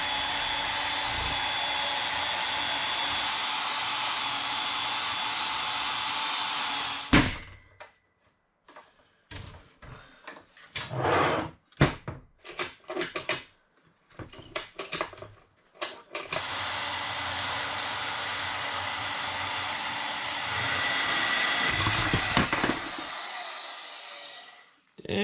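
A bandsaw slices through an aluminum transfer case strapped to a table, giving a loud, steady cutting whine for several seconds, then a stretch of clanks and shuffling before a second long, sustained cut that winds down.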